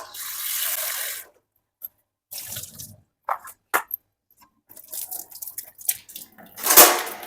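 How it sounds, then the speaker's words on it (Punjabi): Peas rinsed under a running kitchen tap, water splashing in bursts with short gaps, louder gushes at the start and end and intermittent clatter and drips in between, no voices. "ਮਟਰ ਫਿਰ ਵੀ ਆਪਾਂ ਦੋ ਤਿੰਨ ਵਾਰੀ ਧੋ ਲੈਣੇ ਨੇ"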